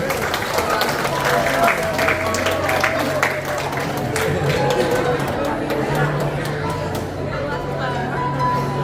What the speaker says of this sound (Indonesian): bisa kita beri tepuk tangan bersama yang meriah